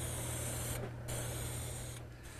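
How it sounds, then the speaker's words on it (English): A spray can puts an even primer coat on wooden planter boxes. The hiss is steady and close and pauses briefly twice, with no voices. "I'm starting with a primer coat, and the idea is to just spray it on nice and even."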